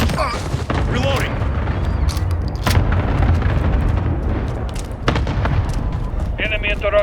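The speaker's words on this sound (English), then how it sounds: "Enemy cluster strike incoming." A Call of Duty cluster strike rains down in a loud, sustained barrage of booming explosions with sharp cracks of gunfire mixed in, and game voice callouts and electronic tones can be heard over the blasts.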